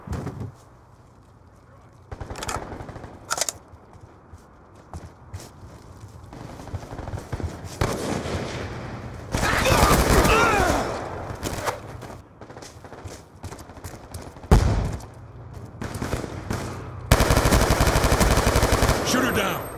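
Rapid automatic gunfire and bursts of shots in Call of Duty Black Ops 2 multiplayer on the Standoff map, loud and sustained in several waves with short gaps and a heavy final stretch.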